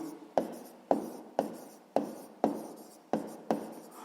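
Numbers are written by hand with a pen on paper, a run of eight quick scratching strokes at a brisk, steady rhythm, close up and alone in a quiet room.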